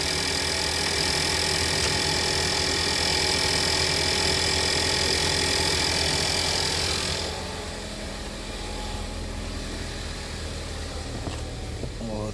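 A Ford Edge engine idles with a steady, even hum and mechanical whir, loud at first and then dropping to a quieter level partway through as the running continues.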